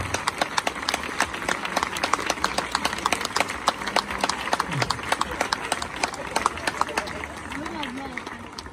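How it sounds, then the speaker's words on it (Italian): Audience at a live Italian comedy show applauds a comedian, with dense, steady clapping running throughout and voices and shouts mixed in. "Questo applauso per me vale doppio"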